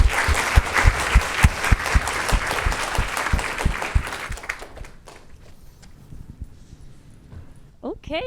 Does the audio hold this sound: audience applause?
yes